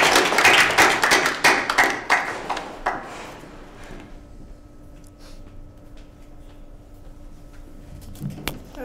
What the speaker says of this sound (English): let's give a big round of applause to her